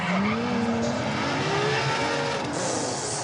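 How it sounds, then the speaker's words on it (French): A LaFerrari V12 hybrid supercar, rated at 800 horsepower with help from a 163-horsepower electric motor, accelerates hard and close. Its loud engine note climbs steadily with a hint of tire noise and no speech. "le V12 de route le plus puissant au monde"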